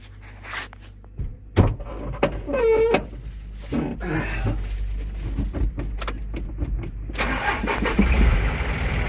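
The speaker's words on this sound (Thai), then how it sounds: "ตอนนี้เครื่องยนต์ติดแล้วนะครับ" An Isuzu FRR210 truck's diesel engine, which has a starting fault, is started: keys jangle and the starter clicks, then the engine cranks in bursts and catches near the end into a steady running rumble.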